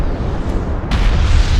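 A downed hostile interceptor explodes in the real-time strategy game Homeworld: Deserts of Kharak, a loud, rumbling blast with a sharp burst near the middle that swells into a dense, sustained roar.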